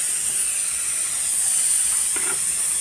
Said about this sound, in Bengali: আমি তেলের মধ্যে দিয়ে দিচ্ছি পেঁয়াজ পেস্টটা